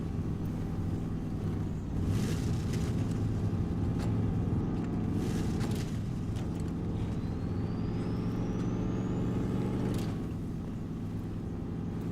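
A heavy truck grinds along in the off-road driving game Snowrunner, its engine a steady low rumble with a few louder surges, driving on without any voices.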